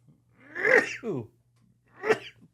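Two close sneezes, the first a loud drawn-out burst, the second shorter and sharper, over a faint hum.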